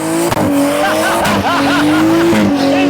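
A car engine roars steadily during a burnout while tires squeal and screech continuously, loud and close, with a few sharp bursts of skidding.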